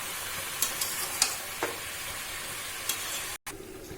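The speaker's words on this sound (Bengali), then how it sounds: "এবার সবজিগুলো ভালো করে মিশিয়ে নেওয়া হচ্ছে।" Vegetables are stirred in a pan with cumin, chili powder and sugar for a Bengali-style radish curry. A soft steady sizzle runs throughout, with spoon scrapes and taps at irregular intervals and a brief cut near the end.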